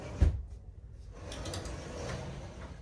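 Barn style cabinet doors on the front storage cap of an RV swing open after being unstrapped, a brief sharp knock followed by faint mechanical rattling and creaking at close range.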